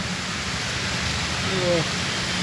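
Rain and wind lash Chennai during Cyclone Ditwah, a steady, dense broadband rush that holds constant throughout with no clear breaks.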